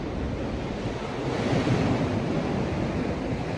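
Atlantic Ocean surf rolls at the Cave of Hercules near Tangier, a broad, steady roar of breaking waves mixed with heavy wind buffeting the microphone, swelling slightly midway, with no voices.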